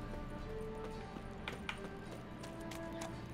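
Horse hooves clip-clopping in The Witcher 3 video game, quiet and steady over low game ambience, with a few brief brighter accents but no clear whinny.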